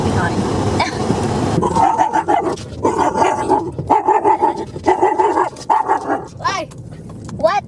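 A dog barks repeatedly in sharp, loud bursts with short pauses, mixed with growls and yips, while people talk and laugh nearby.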